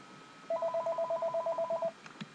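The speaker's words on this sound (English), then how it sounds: "Right now I am calling this phone number." Dialing tones from a Skype call placed to a phone number: a quick, even run of about fourteen short beeps, clear and close, ending with a couple of faint clicks, with no talk.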